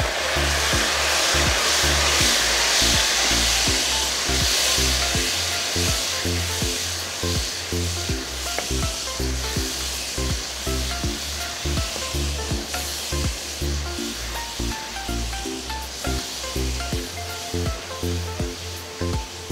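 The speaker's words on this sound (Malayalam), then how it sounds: "നമ്മൾ അരച്ചു വെച്ചിരിക്കുന്ന സ്പെഷ്യൽ കാന്താരി മസാല ഇതിൽ ചേർത്ത് കൊടുക്കുകയാണ്" Ground kanthari chili masala hitting a hot pan with oil for a fish curry, a loud steady hissing sizzle that slowly settles and softens, with rhythmic low knocking beneath it.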